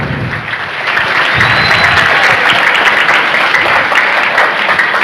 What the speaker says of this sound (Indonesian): Tepuk tangan dulu untuk pemateri.